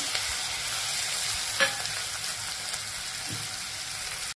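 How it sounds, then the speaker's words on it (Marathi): Hot oil sizzles and crackles steadily with tempering spices and batata vada filling masala frying, a continuous close hiss with occasional small pops. "आपली फोडणी तडतडतीये"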